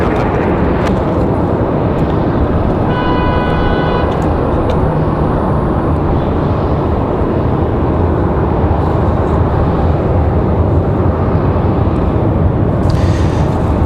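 Airliner departing Raleigh-Durham International and climbing out steeply, a loud, steady broadband jet roar that fills the whole stretch with little change.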